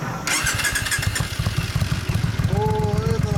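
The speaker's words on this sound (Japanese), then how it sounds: "エンジン音聞かせてもらえる？" A 2015 limited-edition Suzuki Boulevard M109R motorcycle with a Hurricane exhaust idles with a deep, loping rhythmic thump, close and steady, with brief voices in the background.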